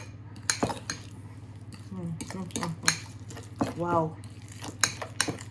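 Butter is mixed in a bowl with a utensil while making garlic bread, giving soft scraping and clinking strokes close by, with a steady hum and brief speech over it.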